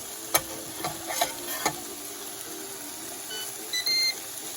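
A Ninja Foodi Pro XL grill beeps to signal it is time to flip a Philly cheesesteak: a few short electronic beeps near the end, over sizzling and frying, with some scraping and stirring clatter earlier.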